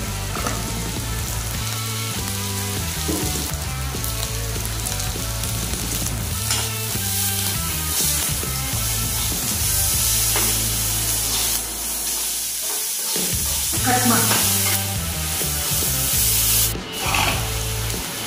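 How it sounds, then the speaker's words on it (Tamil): Onions sautéing in a pan for a horse gram and spinach gravy, giving a continuous loud sizzle with repeated scraping and rubbing of a spatula against the pan throughout, no voices. "நல்லா வெங்காயம் வதங்கினங்க"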